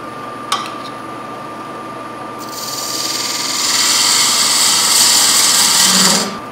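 A Hamlet recess tool cuts into wood on a spinning lathe while turning a threaded box. After a sharp click, a steady hum rises into a loud, sustained hissing scrape of tool on wood, then stops abruptly.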